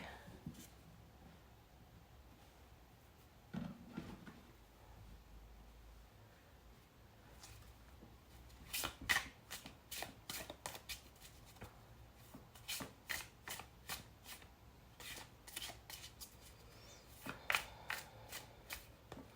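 Deck of oracle cards handled and shuffled by hand, soft slides and rustles at first, then a run of crisp riffling shuffles in quick repeated bursts, close and quiet with no talk.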